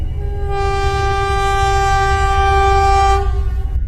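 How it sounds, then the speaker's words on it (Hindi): A cartoon train passes over a bridge, sounding a long, loud, steady horn blast that holds for about three seconds before cutting off over a rumbling rail background. "हमारी ट्रेन पुल के ऊपर से गुजर रही है।"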